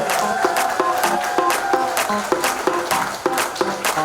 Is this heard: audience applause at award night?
yes